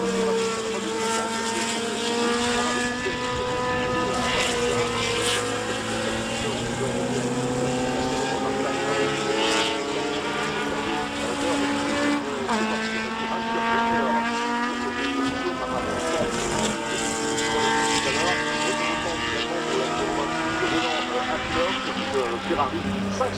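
A Ferrari 512 BB race car at the Le Mans Classic runs with a steady high-pitched engine wail whose pitch rises and shifts as it passes, heard beneath continuous commentary over a public address.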